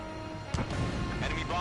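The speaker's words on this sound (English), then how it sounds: "Missile launched." Missile launch and explosion in the Ace Combat 7 flight game, a brief muffled boom rising out of a dense roaring jet-engine rumble, with radio voices chattering over it.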